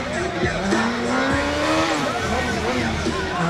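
A BMW car driven aggressively, its engine note rising and falling while the tires squeal in sustained, wavering tones, loud and close, with a voice talking over it.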